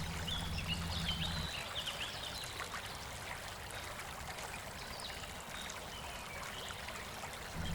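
Steady, soft rushing and trickling of water running through a culvert in a scale model roadway washout setup, continuous and fairly faint, with a low rumble at the start and end.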